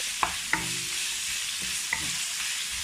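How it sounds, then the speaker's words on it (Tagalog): Pork and cucumber sauté in a hot pan with a constant loud sizzle, and a spatula clacks against the pan a few times as the food is stirred, close up, with no voices. "Gigisa lang natin siya ng ilang segundo."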